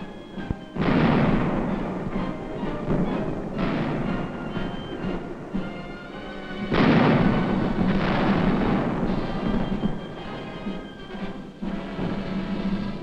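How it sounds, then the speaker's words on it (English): Tank guns fire a heavy bombardment in Korean War combat footage: sustained rumbling blasts and booming volleys that swell and ebb over several seconds, with no voices. "In constant communication with the fire control center, the tanks continue their heavy bombardment."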